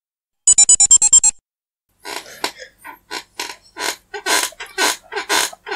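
A squeaky chair: a quick run of seven high, piercing squeaks, then after a brief silence a string of irregular creaks and rubbing squeals as the seat shifts, loud and close with no talking.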